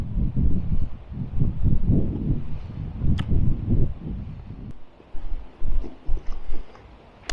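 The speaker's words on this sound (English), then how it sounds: "It's really windy up here." Strong wind buffets the microphone in heavy, irregular gusts, with a low rumbling roar that surges and drops outdoors on an exposed hilltop at Black Rocks in the High Peak.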